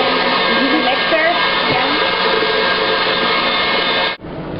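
An electric mixer whirs steadily through cupcake icing, a loud, even motor drone held close for several seconds before it cuts off abruptly near the end.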